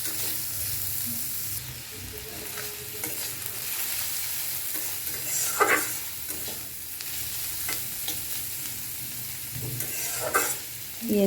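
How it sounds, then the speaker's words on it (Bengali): Onions frying in a pan until browned, a steady close sizzle with stirring scrapes and a few louder clatters of a spoon against the pan, no talking. "এখন বাদামি কালার না হওয়া পর্যন্ত আমরা পেঁয়াজটা ভাজবো।"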